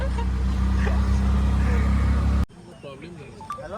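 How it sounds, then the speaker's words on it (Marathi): An auto rickshaw drives through a flooded road in heavy rain: a loud, steady engine rumble with water churning for about two and a half seconds, then it cuts to quieter sloshing water and distant sounds. "ही रिक्षा बघा, ही रिक्षा बघा."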